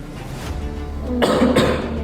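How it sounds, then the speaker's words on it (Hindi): A person with a month-long cough, fatigue and fever, suspected tuberculosis, coughs hard twice in quick succession, loud and close after a moment of low room noise, with no talk. "मेरे को खांसी जोरदार हो रही है"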